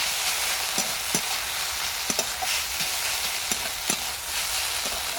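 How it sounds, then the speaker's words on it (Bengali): Potatoes with turmeric, salt and chopped green chili fry in a pan under a constant sizzle, with irregular scraping taps as they are stirred, close and moderately loud. "এইভাবে নাড়তে নাড়তে আলুটা খুব সুন্দর করে কিন্তু আমি সেদ্ধ করে নেব"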